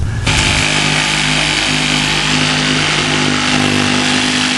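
A jigsaw cuts the far end panel for a small greenhouse, roaring into a loud, steady buzzing whine almost at once and holding it unbroken to the end.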